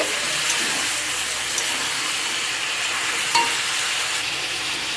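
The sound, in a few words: stirring chicken in a frying pan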